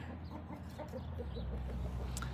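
A rooster on a farm in Arizona clucks softly a few times over a steady low background hum, fairly faint and close by.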